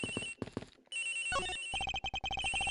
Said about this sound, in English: The ringing coming from somewhere in here, sir.